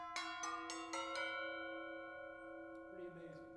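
Vintage brake drums like those on a Model T or Model A are struck five times in quick succession, rising up a scale. Each hit is a clear bell-like clang, and the tones ring on and fade together in a quiet hall.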